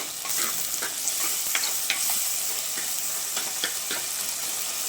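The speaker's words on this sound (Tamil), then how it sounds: "பாருங்க, நல்லா வதங்கிட்டு இருக்கு." Chopped tomatoes sauté with a pinch of rock salt in a pan for a fish curry, giving a steady close sizzle broken by scattered scraping stir strokes and little crackles throughout.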